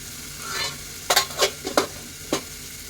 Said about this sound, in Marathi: मसाले झाले काही टाकून की परत ते सगळं ढवळून घ्यायचं